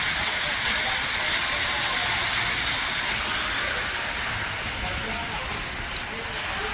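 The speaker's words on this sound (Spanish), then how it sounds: "Qué linda lluvia." Steady rain falls in Ingenio, Junín, a dense, even hiss of drops on surfaces that stays loud and continuous throughout.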